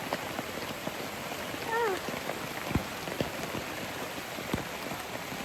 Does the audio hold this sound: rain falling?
yes